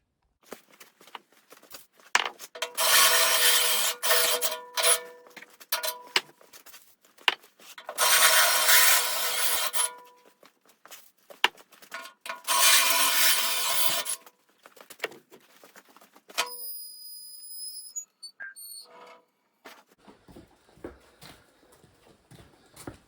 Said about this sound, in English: Just gonna run the step drill on the top side of these to break off a little bit of the leftover.